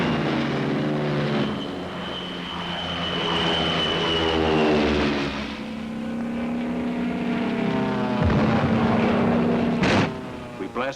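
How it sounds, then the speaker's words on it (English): P-47 Thunderbolt fighter planes take off from a Pacific island airfield in 1944, their propeller engines droning loud and close, rising and falling in pitch as they pass, with a faint voice under the roar. "Thunderbolts take off from our new field."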